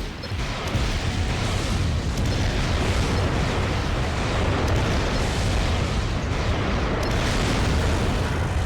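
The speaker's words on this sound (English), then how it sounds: "Oh, he's got a grenade. That's a grenade launcher." Grenade launcher explosions in the mech combat game Armored Core 3, a dense, loud, unbroken wall of booming blasts and rumbling crashes that runs steadily throughout with no breaks.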